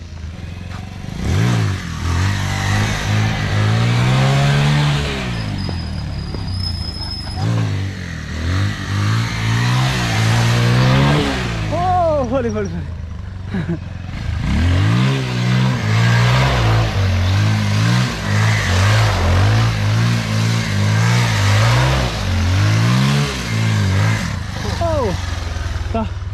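A 220 motorcycle revs repeatedly during stunt riding and drifting, its engine note rising and falling in loud bursts, with someone talking over it throughout.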